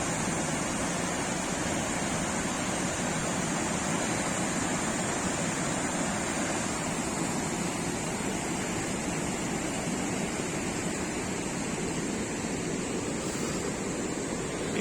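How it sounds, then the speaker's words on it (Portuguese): Rushing water from a waterfall on an abandoned farm, heard as a constant, broad roar that stays steady and unbroken throughout, with no voices. "a cachoeira."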